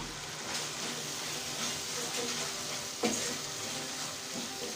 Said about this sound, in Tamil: அதுக்குள்ளே பொடி போட்டுட்டு நல்லா mix பண்ணி விட்டுறலாம்